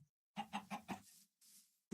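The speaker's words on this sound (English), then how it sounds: "Oh, chickens." Chickens in the Minecraft video game clucking: a quick run of four close, clear clucks followed by a softer trailing cluck, fairly quiet overall with no talking.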